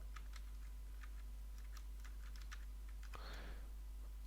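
Computer keyboard keys pressed for Photoshop shortcuts, a few faint, scattered clicks over a steady low hum, followed by one brief louder clack, with no talking.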